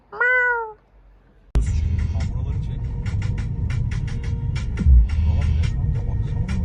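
A single clear cat meow rises and falls at the start, followed by a sudden burst of loud road and engine rumble with clicking noises.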